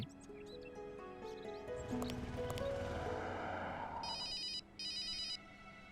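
A telephone rings in two short electronic bursts near the end, following a busy stretch of music and sound effects.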